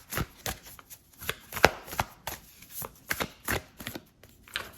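Oracle cards being shuffled by hand in quick, irregular bursts of crisp slaps and riffles, close and fairly loud, with short pauses between clusters and no talking.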